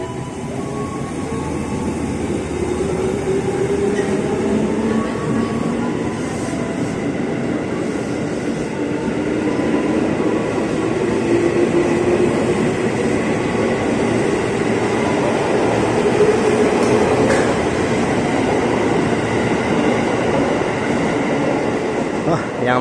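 A KRL commuter train pulls out of Sudirman station in Jakarta after its doors close, with a continuous rumble of wheels and motors, faint clicking and squeals, and platform ambience that swells slightly as the twelve-car set departs.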